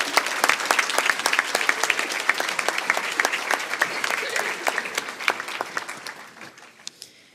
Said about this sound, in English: Can we please give a round of applause to our second group of nominees?